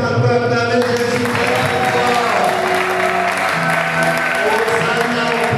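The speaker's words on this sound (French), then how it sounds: "Est-ce qu'on peut acclamer Jésus?" A church congregation applauds and cheers for Jesus, a sustained wash of clapping blended with voices and singing-like tones, loud and continuous throughout.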